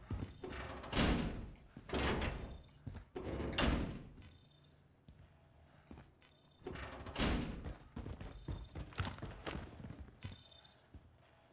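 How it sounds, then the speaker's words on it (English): Heavy thuds and door movements in Call of Duty Warzone as a player enters a building, several loud bangs and scrapes spaced irregularly, with short bright interface tones between them and no speech. "Coming in the door."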